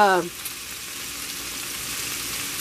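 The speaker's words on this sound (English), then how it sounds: "I like to fry up my bacon before I chop it up." Bacon fries in a pan with a steady, even crackling sizzle throughout, after a brief voice at the start.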